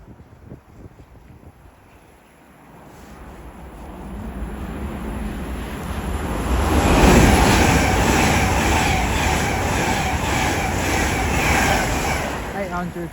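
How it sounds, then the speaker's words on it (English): A Great Western Railway train, a London Paddington to Worcester Foregate Street service, passes through West Ealing station on the Great Western Main Line, its rumble swelling from a distance into a loud, close roar that holds steady to the end. "Then we're going to have a Great Western Railway service going from London Paddington to Worcester Foregate Street."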